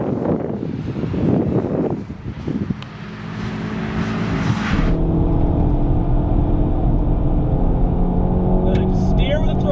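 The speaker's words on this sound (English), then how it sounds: "It sounds like a really pissed off sewing machine with that turbocharged engine." A turbocharged Honda Civic Type R's engine revs and drones steadily under a driver's talk, the pitch climbing and holding at high load as the car pulls hard, loud and close from inside the cabin.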